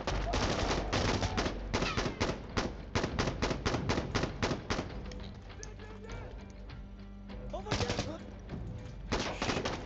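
Rapid bursts of gunfire from the video game Insurgency Sandstorm, dense automatic volleys with brief lulls, loud and close throughout, with some voice chat mixed in.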